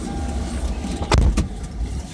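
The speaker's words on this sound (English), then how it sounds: "let me grab that hatch for you." A car's rear hatch is handled, with a sharp thump of the lid shutting at the middle and a softer follow-up knock, set against a low idling engine hum.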